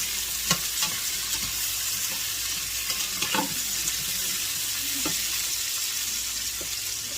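Corn chowder ingredients sautéing in a pan for grilled corn chowder, a steady close sizzle with a few clinks and scrapes of a stirring utensil, no talk.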